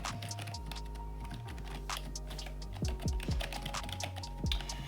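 Keys on a Corsair K55 keyboard clack in brisk, irregular bursts, close and moderately loud, over a low steady hum, with no one speaking.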